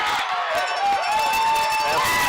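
A football crowd in a stadium, at a 2009 game between Glasgow and London, roars in a steady, loud wash of cheering while a voice speaks over it.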